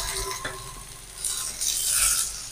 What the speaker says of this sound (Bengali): এবার ভালো করে একটু নেড়ে চেড়ে নেব।